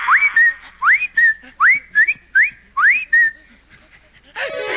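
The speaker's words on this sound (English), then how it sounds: "I grabbed a stick and whistled a few times." Someone whistles repeatedly in the game The Spectre Files: Deathstalker, loud close rising whistle calls in a quick rhythmic series of about seven, followed by a short rustling noise.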